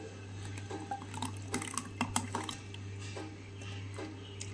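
Cooled mango ice-cream mixture poured into a grinder jar, a soft liquid trickle and splash with a few light clinks of the container, faint over a low steady hum.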